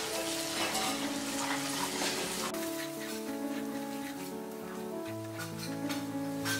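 Paneer being stirred with red chilli powder, coriander-cumin powder and salt in a frying pan, a close, continuous sizzle with soft scraping and light background music.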